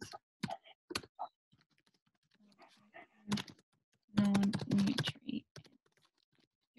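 Typing on a computer keyboard during an online lesson: scattered single key taps, then a dense, close burst of rapid clicking, followed by a few more isolated taps in a quiet room.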